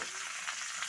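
Green peas tossed in with cauliflower sizzle in hot oil in a pan, a steady, soft, hissing crackle over a very short stretch with no voices.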